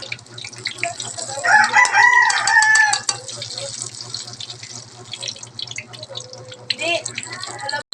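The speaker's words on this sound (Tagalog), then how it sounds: "Tingog ang manok." A chicken crows and clucks in a home setting, the call rising briefly over a mix of voices and running-water noise, then fading back under steady background sounds.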